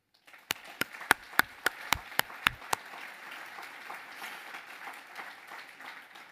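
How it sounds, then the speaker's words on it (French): Audience at a New Year's greetings ceremony applauding young triathlon champions, opening with a handful of loud, evenly spaced single claps before settling into softer, steady applause from the crowd that fades slightly. "Je vous propose une fois de plus d'applaudir nos jeunes champions"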